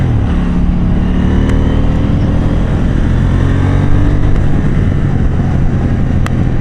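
KTM 790 Duke motorcycle engine revving up and engine braking on the road, a steady loud mechanical drone with rising and falling engine tones throughout, no talk.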